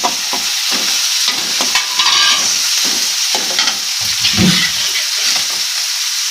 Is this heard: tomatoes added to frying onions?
yes